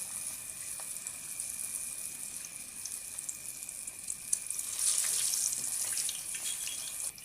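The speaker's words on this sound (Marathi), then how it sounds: "हे बघा कसलं भारी फ्राय होतंय." Cornflour-coated katla fish pieces frying in hot oil, a steady close bubbling hiss that swells louder toward the end, with no voices.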